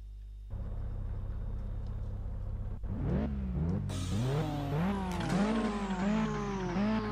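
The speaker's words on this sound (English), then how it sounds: "So we're starting off with the Audi TT Quattro Sport for this one." An Audi TT Quattro Sport in Test Drive Unlimited on PS2: the engine idles, then revs hard and pulls away, climbing through several gear shifts with rising and falling whine, loud and close.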